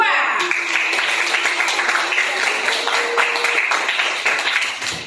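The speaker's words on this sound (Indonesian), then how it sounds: "Tepuk tangan untuk kelompok 2." A classroom group applauds a student team after its presentation in a teacher-training lesson, a steady patter of claps with voices mixed in throughout.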